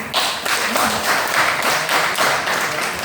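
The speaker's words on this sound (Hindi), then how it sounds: "तो इस बात पे तो तालियां होनी चाहिए" An audience at a DXN company business presentation claps in a short burst of close, uneven applause, a few distinct hand claps standing out in the roomy crowd sound.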